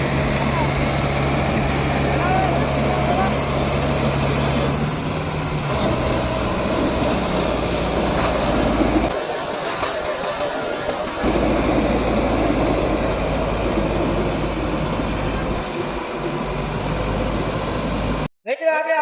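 A Kubota 4x4 tractor in a tochan pulling contest against a Mahindra 4x4 runs with a loud, steady engine drone whose pitch shifts a few times, voices talking over it.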